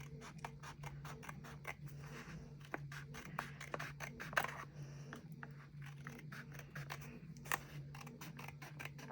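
Scissors trim paper in a quiet room, with a steady run of crisp snips and small scrapes up close.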